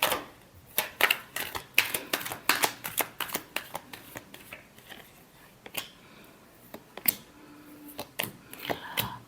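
A deck of tarot cards is shuffled close by in quick bursts of crisp riffling and soft slaps, with irregular clusters of snaps and short pauses, fairly quiet, with no talking.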